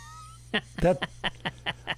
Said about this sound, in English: Leave the cat alone, Greg.